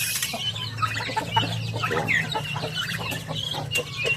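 Native backyard chickens clucking in a steady busy chorus of overlapping calls at moderate distance over a low continuous hum, with a brief spoken word.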